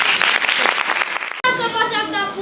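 Audience applause at a children's Christmas nativity play, a dense wash of clapping for about a second and a half before it cuts abruptly to a different, more tonal sound.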